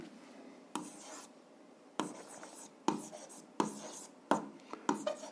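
A pen or chalk writes an algebra equation by hand in short scratchy bursts, about six strokes of writing with brief pauses between them, close and fairly quiet.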